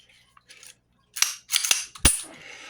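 A Cobra FS380 pistol is checked to confirm it is unloaded, giving a few sharp, close metallic clicks and clacks of the slide and action in quick succession with no talking.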